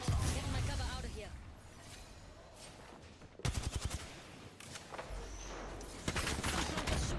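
Gunfire in the shooter game Apex Legends, loud bursts of rapid shots and impacts over dense game noise, with a voice talking over the action.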